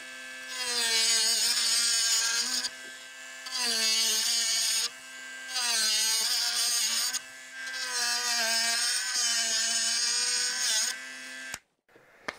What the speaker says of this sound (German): Und diese 5 cm werden wir einsägen.